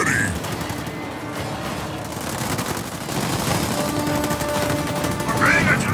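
Rapid bursts of gunfire as units attack an enemy base in the Halo Wars 2 video game, dense overlapping shots under game voices and battle noise.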